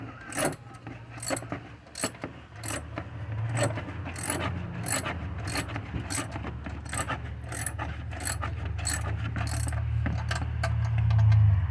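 Ratchet wrench clicking in rapid, steady bursts while loosening a stubborn bolt on the alternator of a 2006 GMC Yukon, close and clear, with an engine-bay hum underneath.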